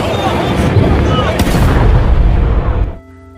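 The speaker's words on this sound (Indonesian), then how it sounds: "Tiba-tiba ada sesuatu yang menyerang dan mereka berhasil menembaknya." Gunfire in an underwater film scene, as a creature is shot: a loud, dense burst of booming shots that roars for about three seconds and then cuts off abruptly into quiet.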